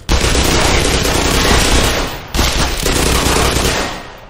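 Sustained automatic gunfire in the video game Black Mesa comes as two long, loud bursts of rapid shots with a brief gap between them, close and harsh, with no talking.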